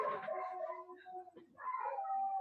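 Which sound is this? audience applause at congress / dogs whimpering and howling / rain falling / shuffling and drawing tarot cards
dogs whimpering and howling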